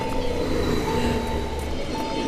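Train crossing the Guggenloch railway viaduct in the Toggenburg valley, a steady continuous rumble of wheels and cars rolling along at moderate distance, with no voices.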